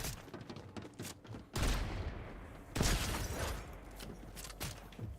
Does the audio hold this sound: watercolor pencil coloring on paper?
no